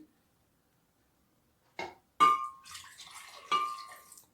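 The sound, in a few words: pouring milk into a blender jar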